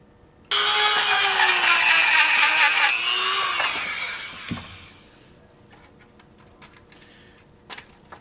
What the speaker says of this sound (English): take a drill bit or a Dremel and widen that hole